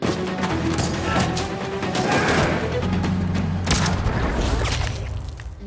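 Repeated gunshots fired by a mafia boss during a shootout at his office door in an action film, loud dense booms and bangs layered with crashes, mechanical clatter and a swelling soundtrack throughout.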